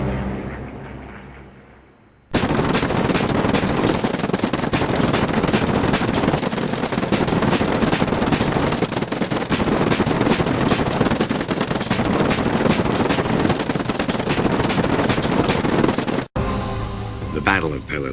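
Anti-aircraft gunfire over WWII Germany: a dense, loud, unbroken barrage of rapid shots that bursts in after a quiet lead-in, roars steadily for about fourteen seconds, then cuts off abruptly.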